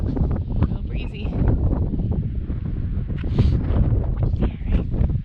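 Breezy wind gusting across an exposed mountain ridge, buffeting the microphone in a steady, loud roar with rising and falling gusts, no talk.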